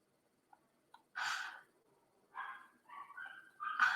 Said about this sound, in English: Oh no, the dog's going to start barking. The chihuahua's out there tonight.